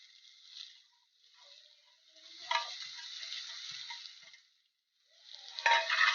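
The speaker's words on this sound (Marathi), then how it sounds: "आता यामध्ये मगाशी जी आपण कारली भाजून ठेवलेली होती ती आत घालावी" Roasted bitter gourd is added and stirred into sizzling tomato and onion in a pan, giving a thin, hissy sizzle with scraping stirs in bursts, fading briefly between strokes and louder toward the end.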